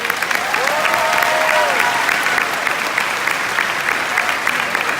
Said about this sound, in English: Please give these 7 people a big round of applause.